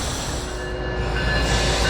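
A GE Evolution locomotive labors at the head of a heavy northbound freight train, fighting wheel slip, producing a loud, steady, dense rumble that fills the whole stretch without a break.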